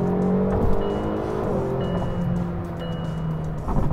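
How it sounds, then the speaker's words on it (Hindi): A 2021 McLaren GT's V8 engine accelerates from inside the car, its deep rising drone shifting pitch through gear changes, loud and close with road rumble underneath. "उफ, ये V8 का जो आवाज है, जो साउंड है, बड़ा बेहतरीन है,"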